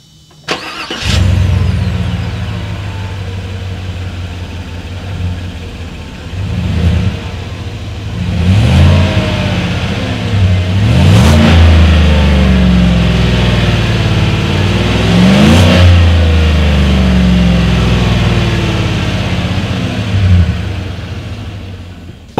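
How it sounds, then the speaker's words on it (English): A 2019 Chevrolet Tahoe SUV's exhaust rumbles loudly at close range, with repeated revs that climb and fall over a steady deep idle. "Here is that exhaust clip."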